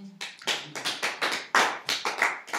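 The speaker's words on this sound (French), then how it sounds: "Acclamez pour vous-même." A congregation at a prayer service applauding, with a run of rhythmic, close clapping bursts that rise and fall about nine times in quick succession and no speech over it.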